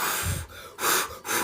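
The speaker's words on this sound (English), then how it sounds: "Lamaze breathing." Quick Lamaze-style breaths, three rhythmic bursts of breathy exhaling with short gaps between them, close and fairly loud, with no speech.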